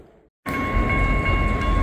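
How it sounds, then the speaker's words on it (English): A CSX freight train rumbles past nearby in high wind, a loud continuous roar with a steady tonal whine that starts abruptly after a brief quiet moment. "so one of those trains is moving"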